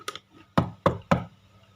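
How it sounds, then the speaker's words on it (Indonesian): Four sharp knocks on a hard surface sound as timing cues during an arithmetic test, one light and three firm, evenly spaced close together in an otherwise quiet room. "Setiap beberapa saat, Anda akan mendengar ketukan semacam ini."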